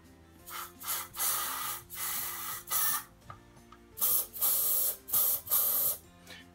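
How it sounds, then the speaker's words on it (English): Short bursts of lubricant spray aimed at the brake pin and wheel slots of a Stokke Trailz stroller, about seven distinct hissing blasts in an uneven rhythm, loud and close with brief pauses between them. "You want to spray right here into where the brake pin goes, that you can start with, and you can do a bit here as well where the wheel slots in."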